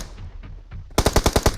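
Rapid automatic gunfire in the battle game BGMI bursts in after a quiet, rustling lead-in, with about eight loud, evenly spaced shots in quick succession.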